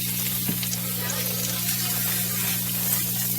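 Steaks sear in a very hot pan, seasoned side down, with a steady, close sizzling hiss that runs the whole time over a constant low hum.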